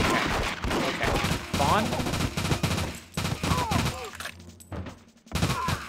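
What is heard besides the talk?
gunfire in the N64 video game The World Is Not Enough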